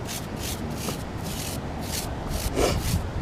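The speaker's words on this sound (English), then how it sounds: "I want to show you how the brush works." Bristle brush rubbing chalk on pavement while drawing a flower in street chalk art, a soft continuous scrubbing in quick rhythmic strokes, close and fairly quiet.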